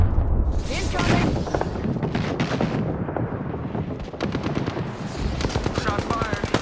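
Rapid bursts of automatic gunfire in the video game Apex Legends ring out close and loud, with clattering shots and heavy impacts over a constant battle din, voices calling out between volleys.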